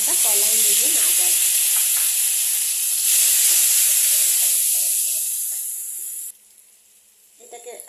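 Cumin, bay leaf, ginger paste and spice paste sizzling in hot oil, a loud steady frying hiss that swells as more goes in, then drops away sharply near the end.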